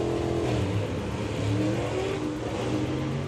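Hot rod drag car with a manual gearbox roaring at full throttle on a drag strip, a steady loud engine note with shifting pitch as it changes gear, heard at a distance.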